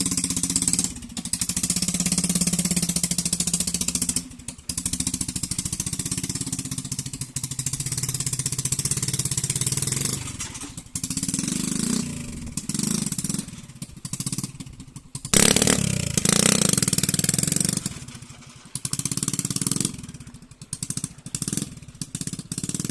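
A Swaraj tractor engine runs close by on a groundnut field, a loud steady rumbling chug with mechanical rattling, briefly broken by a few short dips and surges in throttle.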